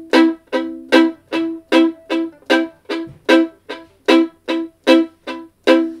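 Fiddle chopping a swing-style bluegrass rhythm, sixteen short percussive bowed strokes in a steady pulse, alternating soft and louder accents, played alone and close.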